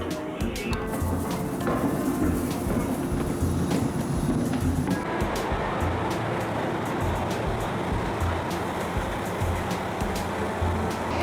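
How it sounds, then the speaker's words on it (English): A train at Asahikawa station in Japan gives a steady, loud rumble with a constant broadband roar and low, rhythmic thumps, shifting in tone midway. "We're gonna be getting on the train."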